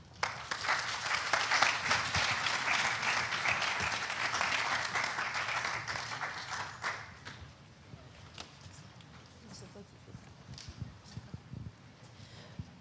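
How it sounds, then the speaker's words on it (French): Applause from a conference audience at a health and surf event, dense and steady for about seven seconds before fading out into scattered claps and quiet room noise. "Je vous demande de les applaudir."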